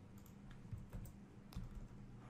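Keys clatter on a computer keyboard in a short burst of uneven taps, some strokes louder and closer than others, with no voices.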